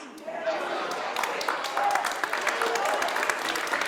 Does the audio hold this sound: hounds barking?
no